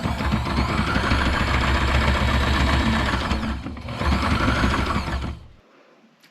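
Sewing machine stitching fabric for a boat window sunshade, a loud, fast mechanical whir that runs for several seconds, pauses briefly for a back stitch, resumes, then stops.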